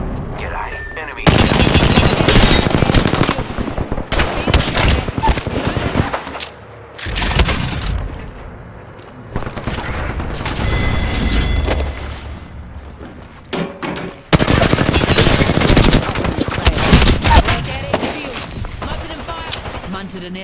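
Bursts of automatic gunfire in a shooter video game, aimed at the player, rattle in several loud close volleys with heavy booming impacts, separated by brief quieter gaps.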